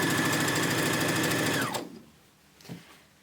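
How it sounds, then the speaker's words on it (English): A sewing machine runs steadily, stitching two quilt rows together along a quarter-inch seam, then stops abruptly, leaving near silence broken by a faint soft clunk. "I'm going to sew row 1 and row 2 together"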